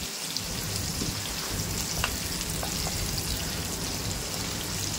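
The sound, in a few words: onions frying in a pan with curry leaves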